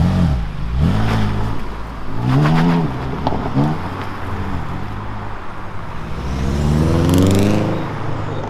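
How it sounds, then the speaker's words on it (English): Modified cars pull away from a car show onto a slippery roundabout, engines rising and falling in pitch as several vehicles accelerate past one after another, with a loud revving pass near the end over steady road noise. "today's video will be mainly the cars leaving the event"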